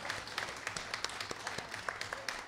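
Scattered, fairly faint applause from a small audience at a bluegrass show, individual claps distinct and uneven across the moment.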